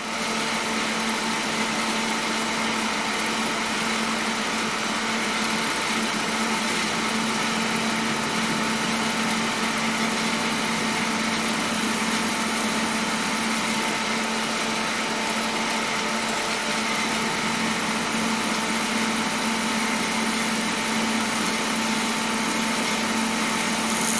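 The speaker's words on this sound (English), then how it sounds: "going to use the mill to drill because it's quite precise" A milling machine drills a hole with a continuous, steady high-pitched whine and motor hum, close and unchanging throughout with no talking.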